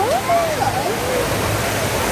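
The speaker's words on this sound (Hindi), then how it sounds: "बहुत भयानक बारिश हो रही है, पीछे दिखा रही हूँ" Heavy rain pours down on a Mumbai street, a dense, steady rushing hiss that fills the whole moment, with faint voices and thin whistling tones drifting over it.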